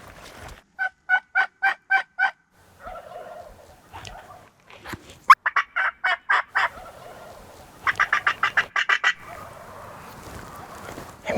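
Wild turkeys in mountain country gobbling in loud, rapid repeated bursts, several rounds of rolling calls from a group of birds, some near and some further off, with a few short quieter calls between them and no talk.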